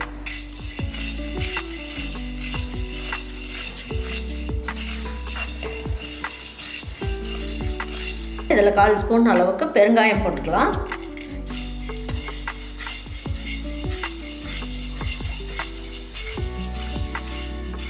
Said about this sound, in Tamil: எல்லாமே போட்டு நல்லா வறுத்துக்கலாம்.